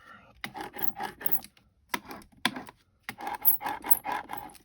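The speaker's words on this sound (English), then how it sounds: "lift your brayer over and over onto the ink pad, and then just rub it onto the embossing folder" A rubber ink brayer rolled back and forth over an embossing folder, giving rhythmic raspy rubbing strokes in short bursts with brief pauses, close up and alone.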